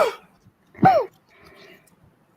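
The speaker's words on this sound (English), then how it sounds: "Curry's coughing in sympathy now. I'm coughing, yeah." A single short, sharp cough-like burst stands out in a quiet room, with faint rustling and soft murmurs around it.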